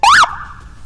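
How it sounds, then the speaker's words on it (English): A single loud, brief police motorcycle siren whoop sweeps up and back down, then cuts off abruptly, leaving a quieter fading tone. "So as far as lights and sirens, we have our loud sirens."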